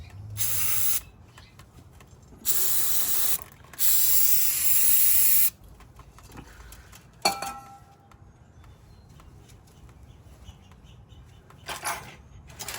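Several short bursts of aerosol cleaner spraying close by during a rear brake job, separated by pauses, with light metallic clinks in between.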